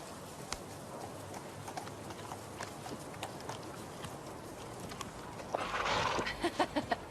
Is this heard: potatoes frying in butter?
no